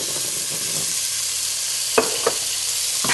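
Peas sautéing in a pan with cooked-down ginger and chili give a steady, close frying sizzle, with a couple of sharp stirring clacks toward the end.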